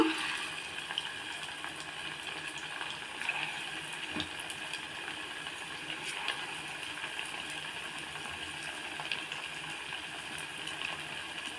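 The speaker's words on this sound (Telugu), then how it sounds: "ఆయిల్ హీట్ ఎక్కింది కదండి, ఇప్పుడు మనం చికెన్ పకోడా వేసుకున్నాము" Chicken pakoda pieces fry in hot oil with a soft, steady sizzling hiss, faint and continuous, with no voices.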